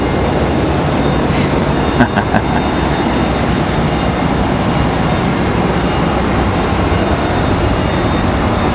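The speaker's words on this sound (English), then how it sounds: "So much noise for such a small plane." A small plane's engine roars steadily at Raleigh-Durham International Airport, loud and continuous, with a few faint clicks early on.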